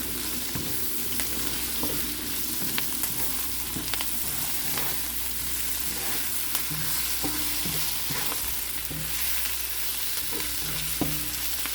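Udon noodles with tofu stirred and fried in a pan, a steady sizzle with scraping utensil strokes and light clinks throughout, close and continuous with no talking.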